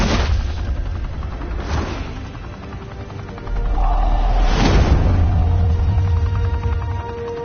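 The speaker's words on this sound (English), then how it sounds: "Open fire!" Gunfire during a shootout in the Batman Telltale video game, with booming shots and whooshes that swell into a denser rumbling barrage in the second half.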